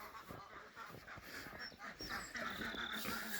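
Ducklings peep and chatter in a steady, busy stream during a spring snowstorm in Maine, with soft overlapping calls that thicken toward the end.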